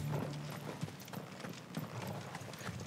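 Horse hooves clip-clop in the video game Final Fantasy 16, a steady run of soft, evenly spaced footfalls at moderate loudness with game background sound underneath and no talking.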